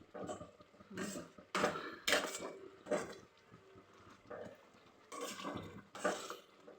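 Filling being stirred in a steel pot on the stove, with repeated scraping and clinking strokes in irregular bursts, fairly close and moderate in volume, with no speech over it.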